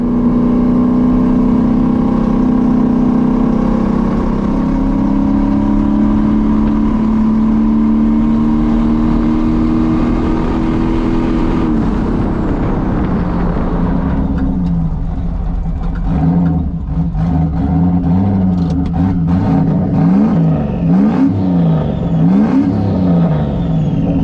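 A turbocharged LS-swapped Foxbody Mustang drives steadily with a loud, continuous engine drone, holding a smooth tone before shifting into a rougher, pulsing rumble under light throttle.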